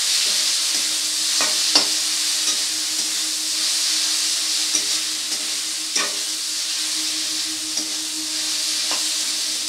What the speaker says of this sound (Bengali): এবারে সবগুলোকে একসাথে খুব ভালো করে কষিয়ে নেব।